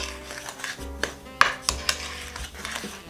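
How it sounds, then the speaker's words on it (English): Nut bread batter is stirred in a bowl, with irregular scraping and a few sharp clinks of the utensil against the bowl, close up. "It's all stirred together well."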